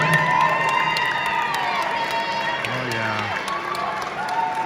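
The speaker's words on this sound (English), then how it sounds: "Crowd's excited. You can feel the energy." Excited crowd cheering and shouting at a Palmer Chiropractic white coat ceremony, a steady roar of voices and whoops with a few children's shouts, one voice calling out briefly up close.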